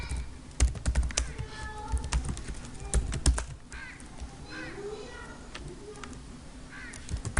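Rapid close clicking and clacking of keys on a computer keyboard comes in uneven bursts and pauses, with faint birds chirping in the background.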